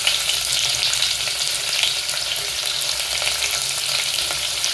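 Sliced onion and green chillies frying in hot oil for chicken biryani, a loud, steady sizzle with crackling and light stirring scrapes, continuous and close.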